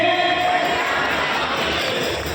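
An audience at a bhajan devotional evening in Visnagar gives loud, sustained applause and cheering that fills the hall without a break.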